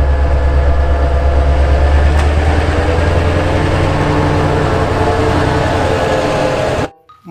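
A toy steam train gives off a steady, close rumbling clatter that runs without a break for about seven seconds, then cuts off abruptly near the end.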